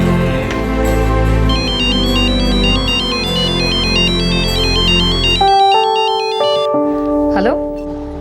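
A phone ringtone plays a repeating electronic melody over background music for several seconds, loud and close, before the tune shifts and fades.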